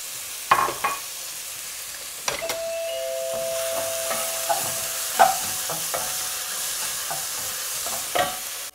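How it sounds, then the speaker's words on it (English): Cumin seeds and red chilies crackle and sizzle in hot oil with a steady frying hiss, punctuated by a few sharp clinks and taps of a utensil against the pan. "add a teaspoon of cumin seeds and a couple of red chilies. Just let it sizzle"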